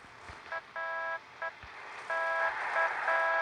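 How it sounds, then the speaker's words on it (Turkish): A car horn in the video game PUBG Mobile honks in several short and longer blasts, steady tonal beeps repeating irregularly over a faint background hum. "Resmen birisi korna öttürdü ha."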